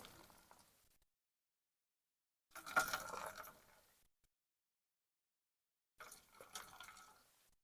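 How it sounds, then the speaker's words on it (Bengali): Water is squeezed by hand out of grated bottle gourd in a home kitchen, coming in two short bursts of wet splashing and trickling with quiet pauses between them. "জলটাকে ভালো করে চেপে চেপে বার করে নিতে হবে"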